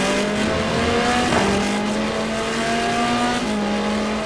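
Nissan GT1 race cars run nose to tail in the draft down the long straight at Fuji in a racing video game, their engines holding a loud, steady, high-revving drone throughout.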